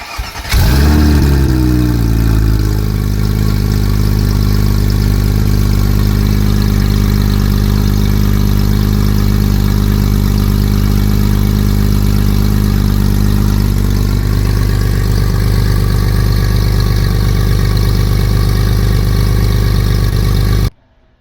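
A Porsche 997 GT3 with a valved sport exhaust and competition headers starts with a sharp, loud bark that flares high, then drops into a deep, steady, booming idle that holds close and alone for about twenty seconds.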